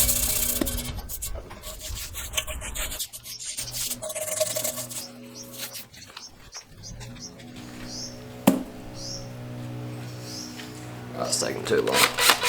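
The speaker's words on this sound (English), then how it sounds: "Let's give it a quick scrub." Cast iron camp oven being scrubbed by hand during restoration, with bursts of rough rubbing and scraping that start and stop irregularly, a sharp knock partway through, and a person talking over parts of it.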